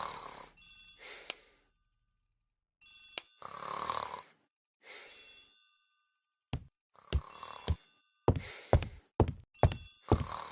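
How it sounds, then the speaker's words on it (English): A telephone bell rings in a hall in several separate bursts, each one loud and close. A run of sharp knocks and thunks follows the ringing. "The telephone in the hall is ringing."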